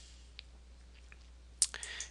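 Small, dry mouse clicks while confirming a dialog in Manga Studio: a faint tick early, then a sharper click followed by a couple of quick softer ones, close and quiet with no speech.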